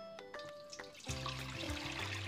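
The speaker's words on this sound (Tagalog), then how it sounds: "Lagyan natin ng tubig." Tap water poured into a metal cooking pot with a steamer for a milo and egg recipe, a few clinks at first, then a steady close gush filling the pot.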